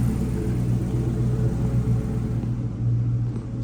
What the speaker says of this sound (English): Sounds great. You just hear that Hemi.